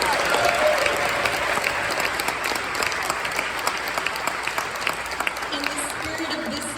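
Audience at a New York City justice event applauds steadily and loudly for several seconds, a dense sustained wash of clapping with scattered voices mixed in.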